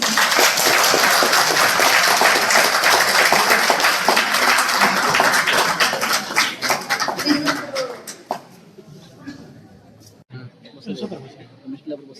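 Crowd applause at an award ceremony, where an environmental award is presented to a district official. Dense, loud clapping holds steady for about eight seconds, then thins into scattered, fading claps.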